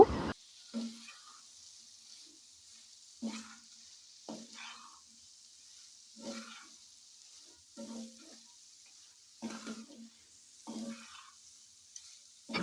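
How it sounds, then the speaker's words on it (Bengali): Pounded beef stirred into fried masala in a pan, heard as a faint background hiss broken by a few separate scraping strokes spaced a second or two apart. "এখন আমি পাটায় থেতলানো মাংসটাকে দিয়ে দিব এবং খুব ভালোভাবে নেড়ে নিব"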